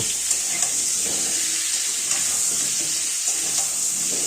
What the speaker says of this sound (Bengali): আলুটা এবার ভালোভাবে নাড়াচাড়া করে এপিটোপিট করে নেব এবং সুন্দরভাবে ভাজতে থাকব